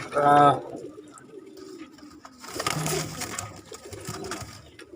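In a breeding loft where golden pigeons are nesting on eggs, a pigeon gives a brief close coo, and low murmuring coos follow under a faint voice and rustling.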